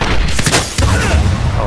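Heavy gunfire from the video game Medal of Honor Warfighter roars loud and close in a short burst, with a booming blast that cuts off and then rumbles again.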